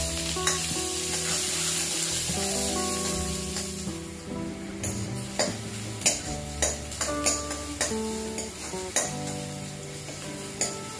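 Onions sizzle in hot oil in a pan for black chana kurma while a utensil stirs, scraping and clinking against the metal in irregular strokes.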